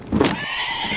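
A horse in an animated film lets out a short, loud neigh at close range that trails off into a softer, fading whinny, with no talking over it.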